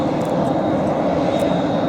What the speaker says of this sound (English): There's another plane. It looks like something like maybe a Piper Meridian. It's a turbo, single engine turbo plot.